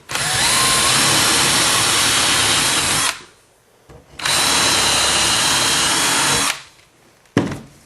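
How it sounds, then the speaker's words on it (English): A power drill bores holes in a wooden board for a Kenya top bar beehive. It runs in two loud, steady bursts of about three seconds each with short quiet gaps between them, then gives a brief final spin-up. "Now we can drill these holes and this board won't move."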